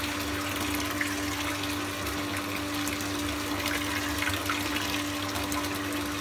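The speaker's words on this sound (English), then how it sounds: "your cooled wort is coming out of the hose pipe" Water and cooled brewing wort flowing out of a hose pipe from a wort chiller, a steady gushing rush with a constant pump-like hum underneath, unbroken for several seconds with nobody speaking.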